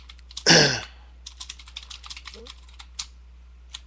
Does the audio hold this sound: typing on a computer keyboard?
yes